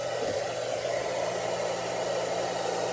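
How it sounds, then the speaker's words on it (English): A handheld hair dryer on a medium, cool setting blows steadily and close, a continuous even rush of air with a faint motor hum underneath, with no talking. "I like to use my hair dryer"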